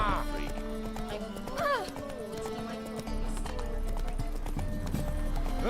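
Geralt's horse Roach trotting in a Witcher video game, steady clip-clop hoofbeats with a brief whinny, layered under game music and ambient sound throughout.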